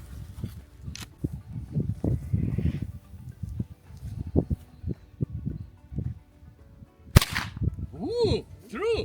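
Several sharp gunshots from rifles, an M1 Garand and an AR-15 among them, crack out at lead-weighted pickleball paddles. The reports come in an irregular string, close and loud, with a final burst of louder cracks near the end.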